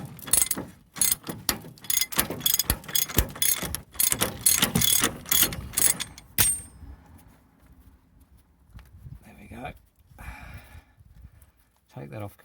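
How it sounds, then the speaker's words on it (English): Ratchet wrench with a 32mm socket unwinding a large nut on an Isuzu Jackaroo steering box, rapid close clicking bursts for about six seconds, then quieter workshop handling noises. "I go and unwind this sucker using a 32mm socket."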